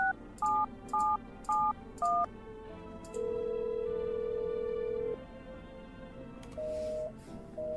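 A phone number is dialed in a video game: four quick, evenly spaced keypad tones, then a steady low ringing tone and a softer tone afterward, all clean and close with no talking.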